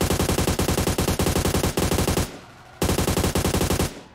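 Rapid automatic gunfire in PUBG Mobile, loud and close, with a dense burst lasting about two seconds, a brief pause, then another long burst.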